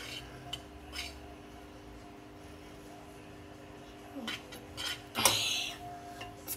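Utensil stirring noodles in a pot, with a few light metallic clinks and scrapes scattered over a quiet background, growing busier toward the end.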